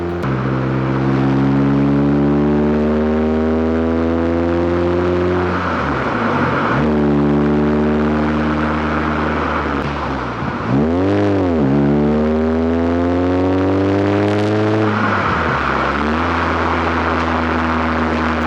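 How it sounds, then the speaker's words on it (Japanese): A Honda CR-Z Mugen RZ accelerates hard with no music. Its exhaust note climbs steadily through each gear, with three clear shifts where the pitch drops and then rises again. The sound is loud and continuous, with no talking. "BGM なしで加速音をお聞きください"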